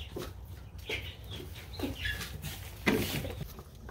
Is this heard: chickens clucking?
yes